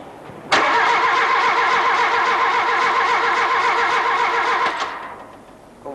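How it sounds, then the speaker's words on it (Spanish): A car's starter motor cranks the engine in a workshop, a loud steady whirring churn with a fast pulsing beat that runs for about four seconds and then cuts off, with no voices. "Ahora vamos a accionar el motor de arranque"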